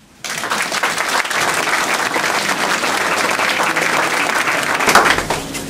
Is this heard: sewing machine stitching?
no